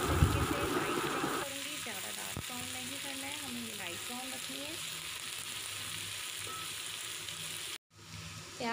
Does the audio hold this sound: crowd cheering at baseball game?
no